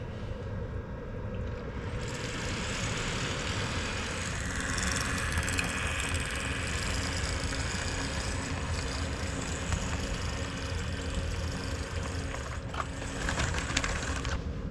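Railroad switching locomotives pull a cut of freight cars out along the yard track, a steady loud engine drone and rumble with metallic clanks and crunching, continuous throughout.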